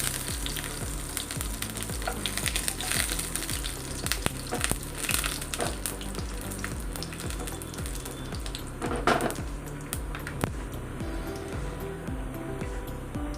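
Three chopped garlic cloves, still wet from washing, sizzle and crackle in a hot pan with a splash of water, a loud continuous frying hiss with sharp spattering pops and the occasional stir.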